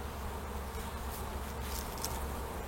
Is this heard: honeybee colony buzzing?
yes